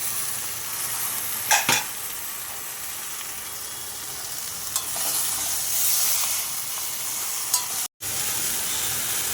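Pumpkin and tomato fry in a pan while being stirred, a steady close sizzle and hiss with a few sharp scrapes of the spoon against the pan, ending with a short cut.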